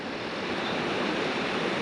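Ocean surf rolls in at the Bolinas Lagoon inlet in California as a steady, close wash of broadband noise with no pauses.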